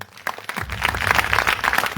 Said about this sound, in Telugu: ఒకసారి బిగ్గరగా చప్పట్లు కొడదాం.